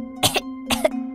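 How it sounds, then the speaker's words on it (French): Two separate coughs from a young cartoon mermaid character, each a short throaty burst spaced about half a second apart, close and clear over a steady background tone. "Sans eau, ma gorge devient faible. De la toux."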